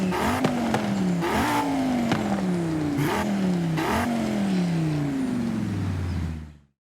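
An Audi RS3 inline-five engine in a racing video game revs hard and climbs through several gears, with a rising note repeating and dropping at each shift, loud and continuous before cutting off abruptly.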